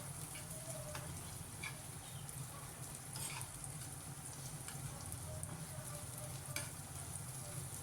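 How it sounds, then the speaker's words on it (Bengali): Plenty of chopped onion fries in a pan for a spicy tangra fish curry. The sizzle is a steady, faint crackle throughout, with light stirring taps now and then and no speech. "পেঁয়াজটা ভালো করে ভেজে নেব।"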